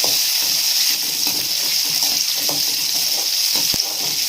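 Shallots and green chillies sautéing in a pan for mint chutney, a continuous bright sizzle with occasional stirring scrapes and a sharp knock near the end, close and loud, without speech.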